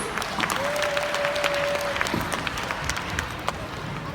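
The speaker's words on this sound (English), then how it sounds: "Can we give him another round of applause," An audience at the UKKCA 2017 stage event applauds after a performance, a steady wash of many hands clapping throughout, with a faint tone held briefly near the start.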